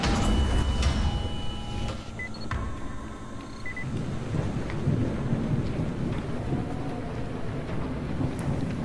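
Thunderstorm in the zombie survival game Dying Light: steady rain hiss with rolling thunder and a few mechanical clicks and tones early on, no talking.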